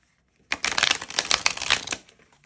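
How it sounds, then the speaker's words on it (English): A new deck of playing cards is riffle shuffled, giving a quick burst of rapid, crisp flutter-clicks that lasts about a second and a half before ending with a soft settle. "that was a very easy shuffle"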